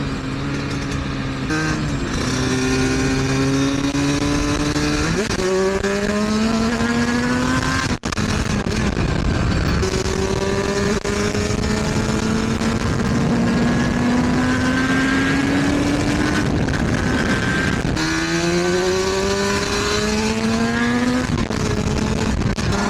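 Suzuki RG500 two-stroke motorcycle heard onboard, its loud raspy engine climbing through rising revs, dropping at each gear change and pulling up again, with wind rush constant underneath.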